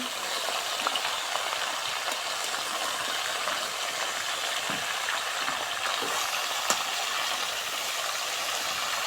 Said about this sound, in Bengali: মশলা সব সহ বাটা মশলাটা সুন্দর করে নাড়াচাড়া দিয়ে নিতে হবে